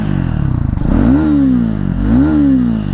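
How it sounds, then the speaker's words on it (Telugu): Loud exhaust note of a 2025 Triumph Speed 400 motorcycle, revving up twice in rising sweeps over a steady idle rumble, close by with no voices. "ఎగ్జాస్ట్ సౌండ్ అయితే లౌడ్ ఉంది"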